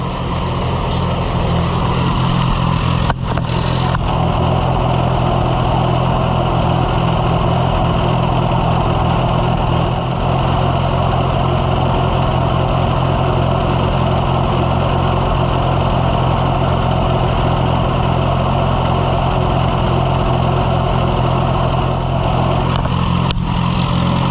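A Case VAC tractor engine idles steadily throughout, a loud, continuous low rumble with an even, unbroken tone and no talk.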